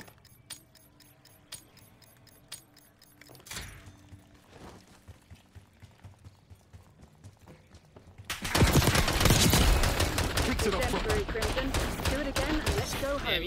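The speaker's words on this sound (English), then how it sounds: "Gunfight." Gunfire rattles through a Call of Duty: Black Ops 6 gunfight, sparse clicks and shots giving way to a loud, dense burst of automatic fire that keeps going to the end.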